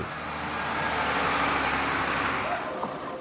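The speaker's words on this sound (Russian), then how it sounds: "По разбитой узкой дороге из карьера вывозят уголь круглосуточно. Караваны грузовиков, километры пыли." A convoy of coal trucks rolls along a broken, narrow quarry road, a continuous heavy engine rumble and road roar that swells and passes, steady and dense throughout.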